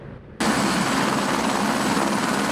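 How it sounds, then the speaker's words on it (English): Several water-bucket firefighting helicopters flying over the Bear Creek wildfire southwest of Dillon. A loud, steady rotor and engine roar starts abruptly after a brief quieter moment and holds close and constant, with no talking. "Several helicopters collected water in buckets that hold up to 400 gallons and have been dumping it on the fire"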